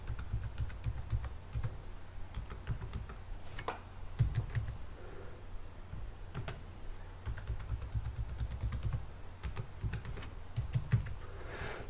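A password is typed on a computer keyboard in quick, irregular bursts of close, crisp key clicks that run steadily with short pauses.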